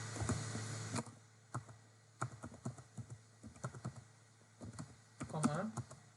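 Clicky typing on a computer keyboard in irregular bursts of keystrokes, close and fairly quiet, with someone talking at times over the tapping.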